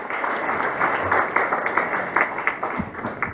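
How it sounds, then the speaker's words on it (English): Audience applause fills a hall at a national dialogue event in Uganda, steady continuous clapping from a large crowd lasting throughout with no talk over it. "I just request and invite us to clap more for Mr."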